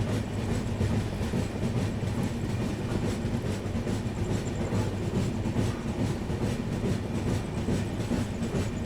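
The Bihar Sampark Kranti Express, New Delhi to Darbhanga, rushes past close by with a loud, unbroken roar and steady clatter of wheels over rail joints, nearly nine seconds long, with no voices.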